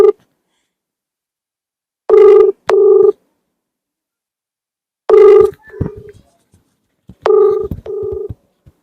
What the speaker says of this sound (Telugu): ఫోన్ ఎత్తట్లేదు